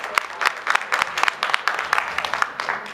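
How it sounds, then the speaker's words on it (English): Audience applause for a teachers' day panel, a steady patter of clapping with sharp bursts throughout, close and moderately loud with no voices over it. "let's give that panel another round of applause"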